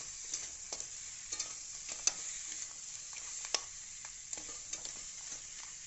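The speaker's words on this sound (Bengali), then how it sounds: "এরপরে ভেজে রাখা কাঁকড়াগুলো আমরা দিয়ে দিলাম, দিয়ে ভালো করে নেড়ে চেড়ে নিতে হবে।" Fried crab pieces and potatoes for crab curry are stirred in a hot pan, a constant moderate sizzle punctuated by frequent sharp spoon scrapes and taps at an irregular rhythm.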